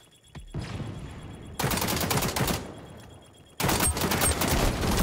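An AK rifle in the video game XDefiant fires in two long, loud automatic bursts close by, each cutting off abruptly, with brief quiet before and between them.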